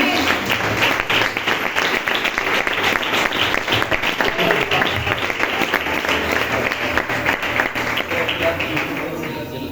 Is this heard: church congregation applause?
yes